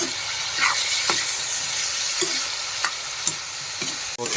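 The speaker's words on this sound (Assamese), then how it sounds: "এতিয়া হিলাই আছোঁ মই" Pork with fried potatoes and tomatoes sizzles steadily in a hot pan while a utensil scrapes and stirs through it now and then, with no voices.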